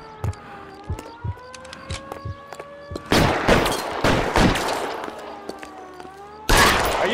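Gunfire in the L.A. Noire crime game: sparse single shots over a wailing siren, then two loud sustained bursts of rapid fire, one mid-clip and one at the end, with no talking.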